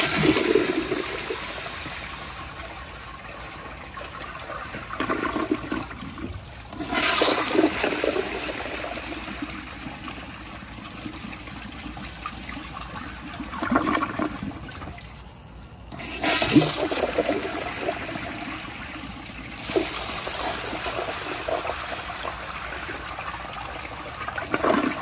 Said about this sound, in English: now I'll flush until the tank runs out